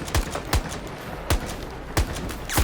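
A shotgun used like a sniper rifle in a shooting video game fires five sharp, loud blasts spaced irregularly about half a second to a second apart, each with a punchy low thump and quick decay.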